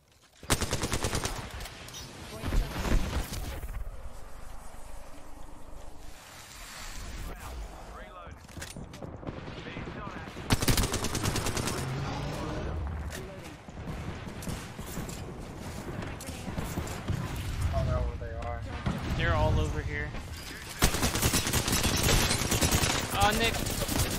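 Video game gunfire in bursts and single shots, loud and near, with several players talking over it throughout and sharper volleys near the start, middle and end.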